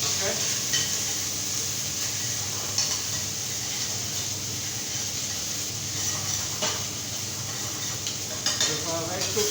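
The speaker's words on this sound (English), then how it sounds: "And in the other pot, we're getting our red onion marmalade on the go. So we start cooking down our onions." Red onions sizzle and fry steadily in a pot, cooking down for a marmalade, with occasional stirring clinks of a utensil against the pot over the continuous hiss.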